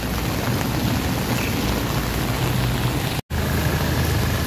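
Heavy typhoon rain pouring down during flooding in Metro Manila, a loud, dense, steady hiss with a single brief cut near the end.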